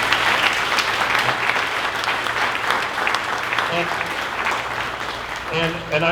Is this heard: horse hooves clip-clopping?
no